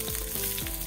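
Stuffed capsicum frying in a pan gives a short burst of close, continuous sizzling as it is turned, with faint scraping under the hiss.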